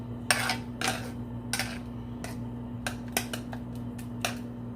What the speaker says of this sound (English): you just have to stir as you go along